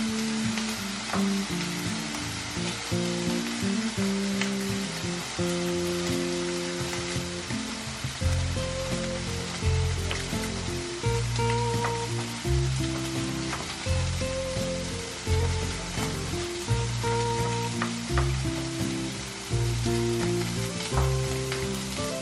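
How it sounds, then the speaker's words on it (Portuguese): Small linguiça sausage pieces fry in a dry pan, giving a steady, close sizzle that runs unbroken through the whole stretch with no talking. "A linguiçinha já tá fritinha aqui"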